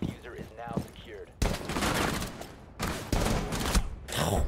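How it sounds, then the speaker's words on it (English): Rapid bursts of automatic gunfire in a tactical shooter match on the Consulate map, loud and close, coming in several sustained volleys separated by brief pauses, with a voice speaking briefly at the start. "This guy dumped 10 bullets"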